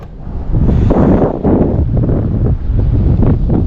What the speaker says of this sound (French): Le vent, c'est un enfer.